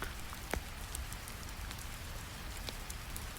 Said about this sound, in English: Outside rain continues its gentle song